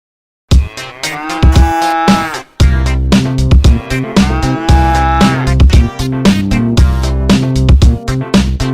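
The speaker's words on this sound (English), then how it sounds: "Cow." A cow lows in a few long, loud, drawn-out moos separated by short pauses, close and clear with no other sounds.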